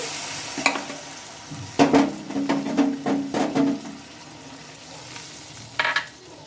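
Water splashes into raw tomatoes with mustard and poppy seed paste frying in hot oil, setting off a burst of sizzling and stirring scrapes that fade after a few seconds, with no talking.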